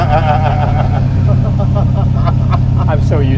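Cars idle and rumble close by at a drag strip beside a 700HP blown Hemi 1951 Henry J drag car, a steady low engine drone with a few brief rising revs near the end.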